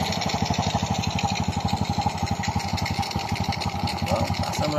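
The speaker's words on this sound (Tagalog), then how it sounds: "Marinig natin ang tunog ng kanyang makina." A Honda XRM 125 motorcycle engine idles close by after a rebuild with a new connecting rod, its small single cylinder putting out an even, rapid chugging putter throughout.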